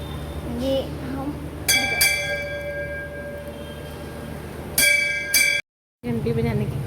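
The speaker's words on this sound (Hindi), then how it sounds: "घंटी बजाने की कोशिश कर रही है" A small prayer bell rings in two short clusters of bright dings during a Diwali puja, with background chatter and a voice between them.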